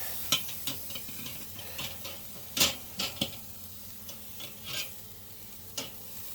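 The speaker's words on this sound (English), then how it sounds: "Let's sear these things up." Scotch fillet steaks sear over direct heat on a smoker barbecue, giving a faint steady sizzle broken by scattered clicks and light metallic taps at irregular intervals, with no voices.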